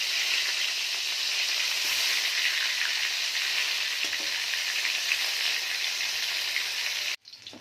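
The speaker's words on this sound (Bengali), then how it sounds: "এই দুটো মাছও ভেজে নেব।" Fish frying in hot oil in a pan, a loud, dense and even sizzle close by that carries on steadily before cutting off abruptly near the end.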